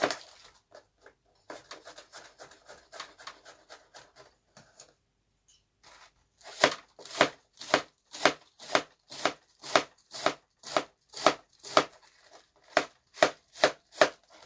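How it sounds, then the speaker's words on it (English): A knife chops cabbage for sauerkraut on a board, first in quick light taps, then in loud, evenly spaced chops close up, with no talking. "so we are going to keep chopping."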